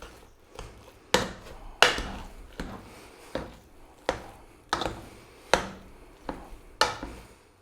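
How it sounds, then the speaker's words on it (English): Cooked potatoes are mashed with milk in a pot, giving about a dozen sharp, rhythmic thumps and squelches spaced roughly half a second apart, close and clear with no voices. "we're going to mash this in"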